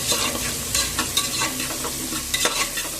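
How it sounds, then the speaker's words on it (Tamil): Chopped onions fry and sizzle in hot oil for egg biryani, stirred with a spoon that scrapes and clacks against the pan in irregular bursts over a steady close sizzle. "நம்ம ஆனியன் கட் பண்ணி வச்சுருந்தோம்ல, அதை வந்துட்டு நல்லா போட்டு நல்லா ப்ரௌன் கலரில் ஆகிற வரைக்கும் வதக்கிடுங்க."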